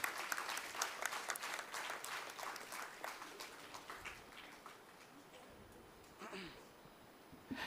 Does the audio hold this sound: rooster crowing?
no